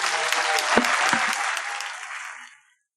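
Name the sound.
audience applause for the panel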